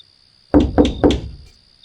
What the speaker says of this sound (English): Another knock, 3 soft taps.